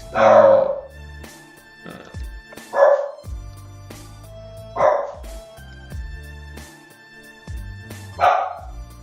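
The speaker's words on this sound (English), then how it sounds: "sorry for my dog" Sharp, loud dog barks sound up close indoors, about four spaced single barks and a couple of softer yips over several seconds, with quiet gaps between them.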